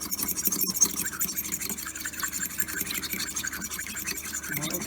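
A fork beating an egg in a bowl makes fast, steady rhythmic scraping and tapping, close and even for several seconds with no talking.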